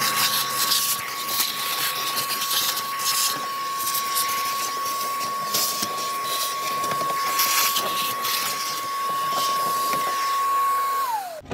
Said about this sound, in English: we're actually going to vacuum out the air box